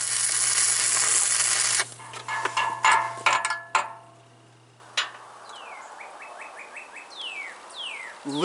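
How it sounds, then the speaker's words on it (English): A northern cardinal sings outdoors, its clear descending whistled slurs repeating in a steady series after a stretch of rubbing and knocking work noise near a home-built sawmill. "Listen to that cardinal."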